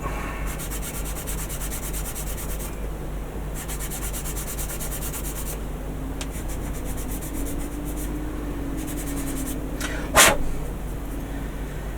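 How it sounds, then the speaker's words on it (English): A sanding stick rubs back and forth over a small plastic Zoids model kit piece in short scratchy strokes with brief pauses, close and quiet, with one sharp tap near the end. "So I did bring out a sanding stick"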